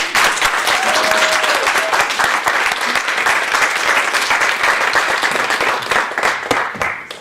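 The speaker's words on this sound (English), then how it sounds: "Let's give all the panelists another round of applause." Loud, continuous applause from an audience for panelists at a discussion event, many hands clapping in a thick sustained wash that runs throughout before easing off at the very end.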